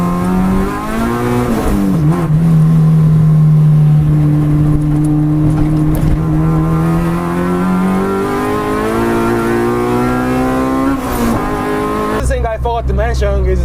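A K20-swapped Honda EK Civic race car accelerates hard, its engine note climbing steadily through the revs and holding a loud, rising whine. A brief drop and then a sharper, higher surge come near the end, with talking inside the cabin under it.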